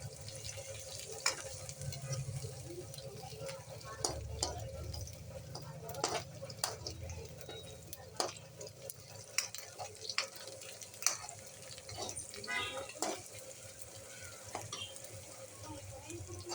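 Food frying in a pan and turning brown, with a spoon scraping and stirring at intervals over a steady sizzle, close by and moderately quiet.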